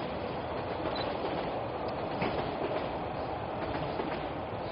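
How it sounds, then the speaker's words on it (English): A train rolls past in Toronto with a continuous heavy rumble and faint rhythmic clacking of wheels on track, steady and fairly close, with no voices. "We got lots of trains coming."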